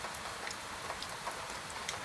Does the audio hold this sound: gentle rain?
yes